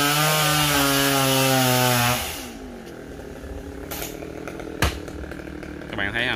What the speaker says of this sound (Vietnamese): Cưa một cây dừa có độ cao tầm 10 mét và thả những cái đoạn dừa đúng vào những nơi cần thả